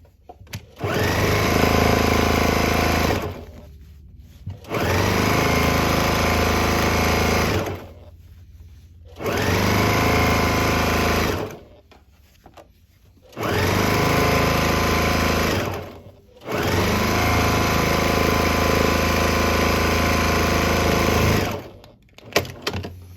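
A sewing machine stitching down the side of quilt fabric runs in five long, loud, steady whirring bursts, each cut by a short pause, close and with no voices over it.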